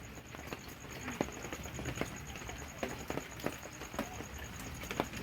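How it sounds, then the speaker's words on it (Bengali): Rain still falling at night, heard as a faint, sparse patter of individual drops tapping on surfaces nearby, irregular light ticks over a quiet background with no voices. "বৃষ্টি এখনো পড়ে যাচ্ছে"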